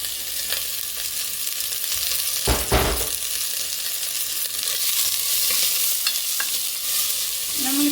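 Onion and carrot stir-fried in ghee for ghee rice, a steady close sizzle of frying with occasional scrapes and clinks of a spoon stirring in the pan.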